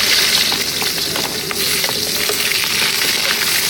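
Chopped onions sizzle and fry in a hot pan for pinakbet and paksiw na bangus, a steady bright crackle running throughout with faint stirring clicks, close and fairly loud, no talking.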